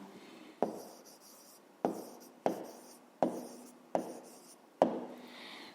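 A pen or marker writes out a fifth-grade math answer in a series of about seven firm strokes, each starting with a sharp tap and trailing into a scratchy scrape, close and distinct with no talk.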